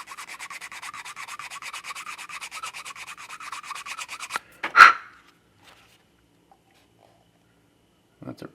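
Sandpaper rubs steadily back and forth over a vinyl model kit part, a fast even scraping rhythm lasting several seconds, then a sharp close knock and quiet.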